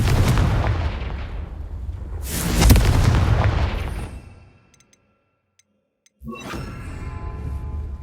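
Fiery Confringo spell explosions from the video game Hogwarts Legacy, set in Upper Hogsfield: loud booming blasts with a sustained roar, a brief near-silent gap, then another burst of rumbling fire.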